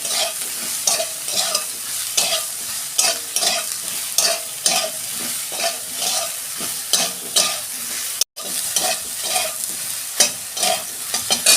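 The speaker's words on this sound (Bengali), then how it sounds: "সয়াবিনটাকে আমি একটু ভেজে নেবো 2 মিনিট।" Soybean chunks frying and being stirred in a pan, with a steady dense sizzle broken by repeated scraping stirs of a utensil, close and loud throughout, with one brief dropout near the end.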